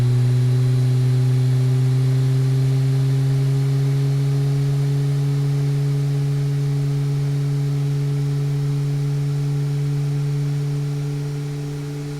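A Boeing 737 Max engine spools up during startup in Microsoft Flight Simulator, a loud steady droning whine with sustained tones that rise slightly, then ease off at the end.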